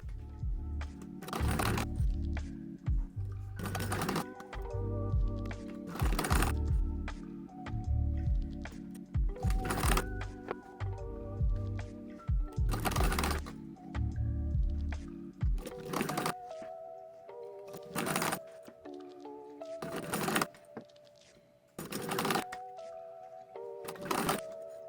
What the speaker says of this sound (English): sounds of the machine as we get moving along here just a little bit